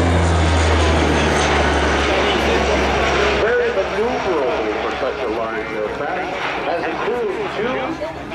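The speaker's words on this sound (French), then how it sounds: "The high speed pass of the CL-415." A Canadair CL-415 water bomber makes a high-speed pass with a loud, heavy engine drone that cuts off sharply partway through. Voices then talk over a fainter aircraft rumble.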